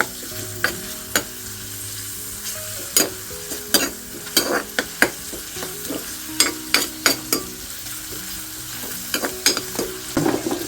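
Onions fry in a pan before tomato goes in, a soft steady sizzle broken by repeated sharp scrapes and clinks of a spoon stirring against the pan in an irregular rhythm.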